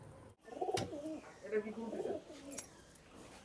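Soft, close coos of flying pigeons (Pakistani flying breed) in a repeated low warbling rhythm, several calls in quick succession with faint clicks between.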